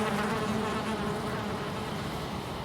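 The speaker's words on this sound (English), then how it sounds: "Let the bees dissipate." A continuous, dense buzzing of many bees in the video game Valheim, steady and fairly loud throughout with no voices.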